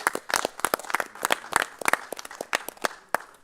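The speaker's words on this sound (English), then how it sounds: "Let's give a round of applause" Applause at a city council meeting honoring the class of 1973, a sparse group clapping with distinct sharp individual claps, uneven and close, lasting about three and a half seconds with no talking.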